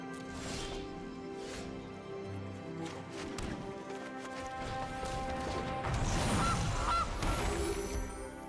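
Goose honk sound effects from the digital card game MTG Arena, with several nasal honks mixed with clattering and crashing game effects and a soft musical background, and no speech.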